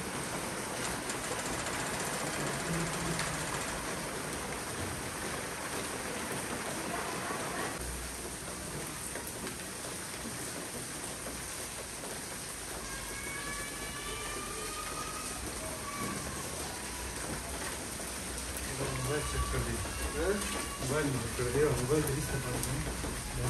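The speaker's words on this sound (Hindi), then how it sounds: "भीग गया मैं भी, भीग गया बारिश में" Steady rain falls outdoors in hilly country, a dense, continuous hiss that swells slightly toward the end, with voices heard at times beneath it.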